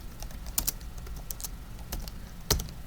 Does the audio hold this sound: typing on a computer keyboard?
yes